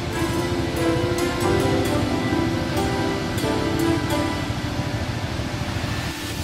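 Cathedral Falls, a waterfall about 35 feet high over squared, pillar-like rock, pours in a steady broadband rush, loud and constant, with a few faint clicks on top.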